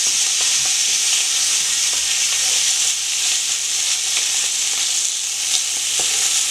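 Sausages frying with spices for a babafigue curry, stirred regularly, giving a loud steady sizzle with faint scraping and clicking from the stirring.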